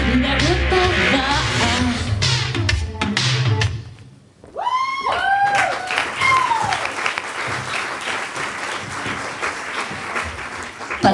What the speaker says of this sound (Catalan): Per què aplaudiu?